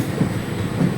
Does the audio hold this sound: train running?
yes